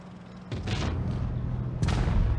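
Two heavy tank cannon shots in the mobile tank game WoT Blitz, one at the start of the clip and one near the end, each a loud broadband boom with a lingering low rumble and no talk.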